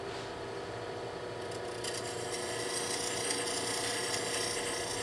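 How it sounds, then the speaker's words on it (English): Woodturning tool making a shear-cut scrape across spinning wood on a lathe, a steady broadband rasping that stays loud and continuous throughout, growing slightly brighter partway in, with no talk. "all I'm doing is I'm just doing a slight wiggle so that I'm kind of doing a sheer cut scrape on both sides"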